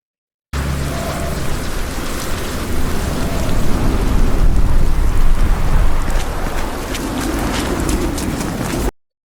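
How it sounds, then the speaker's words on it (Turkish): Rain pours in a video game trailer, a dense, loud, steady hiss with low rumbling that swells in the middle and ends abruptly. "Şu yağmur efekti"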